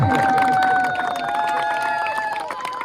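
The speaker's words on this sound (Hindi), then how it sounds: "जोरदार ताली बजाना 313 वाले के लिए" A crowd at a village cricket ground claps and cheers for a team, a busy mix of clapping and babble with a tonal drone running through it and a short dip in level about a second in.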